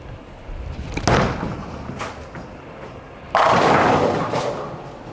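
At a bowling championship, a bowling ball is released with a thud, rolls down the lane with a low rumble, then crashes loudly into the pins.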